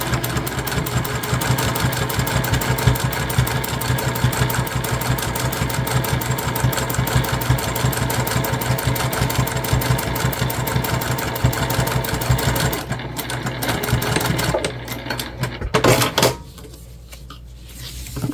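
Sewing machine stitching bias tape onto a fabric bag, a loud rapid mechanical chatter running steadily for about thirteen seconds, then slowing in short bursts before stopping.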